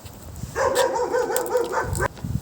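A dog barking or whining in a drawn-out, wavering tone for over a second, moderately close, set in a room with low background noise and no talk.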